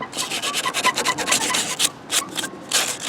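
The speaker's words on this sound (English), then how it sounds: "Scraping off some of this old gasket material." Old gasket material being scraped off a Craftsman lawn mower, quick rhythmic rasping strokes close up, several short bursts with brief pauses between them.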